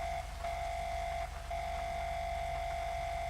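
A police cruiser's horn in GTA 5 blares as a steady, loud tonal honk held for over three seconds, cut by two brief breaks, over a low engine rumble.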